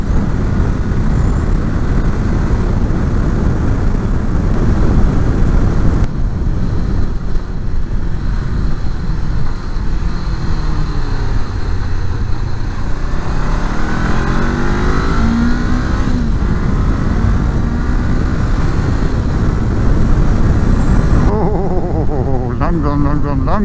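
A car engine revs and accelerates in a continuous loud drone that rises and falls in pitch, with someone talking in German over it.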